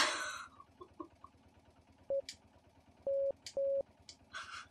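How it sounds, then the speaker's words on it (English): Morse code beeps keyed in the video game Martha is Dead: a few clean steady tones, one short dot then two longer dashes, sounding against a quiet ambient bed with faint clicks and rustles. "Look at me doing Morse code, not knowing what the hell I'm doing."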